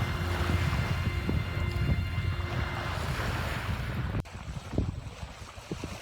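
Wind blowing across an ocean beach on Fire Island, with steady broadband roar and gusting microphone buffeting, surf mixed in, loud and continuous before easing slightly near the end.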